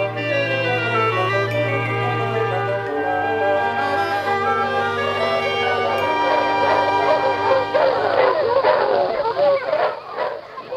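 Dogs barking and yipping amid dramatic orchestral music, the barks growing busier and louder toward the end over sustained strings.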